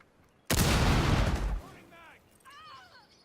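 A burst of gunfire in the Rainbow Six Siege video game during a pro league Xbox match, a loud dense volley lasting about a second, followed by fainter electronic game sounds.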